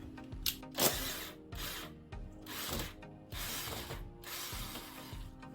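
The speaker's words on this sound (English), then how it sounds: "we're gonna start by removing these screws right here so we can start removing our old fender liner" A ratchet backs out screws from the fender liner of a 2017 Kia Forte, with several bursts of rapid clicking separated by short pauses, close and moderately quiet.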